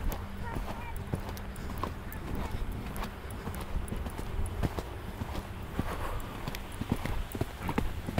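Horse hooves beat a steady clip-clop at a trot in an outdoor riding arena, under a coach's continuous talk, with the rhythm clear throughout.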